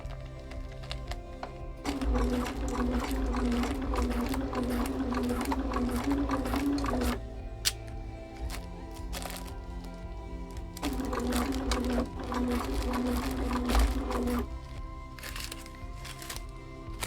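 A sewing machine stitches glove fingers in two sustained whirring runs separated by a quieter pause, with small clicks and handling noise between them.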